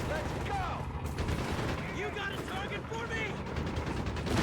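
Gunfire crackles through a Company of Heroes 3 battle between German Wehrmacht and US Forces armies, with sniper fire among the shots, sounding continuously under a dense mix of game noise while a voice talks over it.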